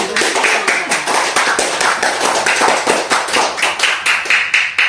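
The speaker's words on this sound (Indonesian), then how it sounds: "Silakan berikan tepuk tangannya." Loud, rhythmic clapping from a small group in a classroom lesson, quick repeated bursts close by with an uneven, lively pulse.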